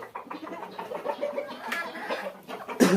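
Tiger-breed chickens on a farm in Bakshiganj, Jamalpur, clucking in a steady, close run of short calls, with a louder burst of clucking near the end.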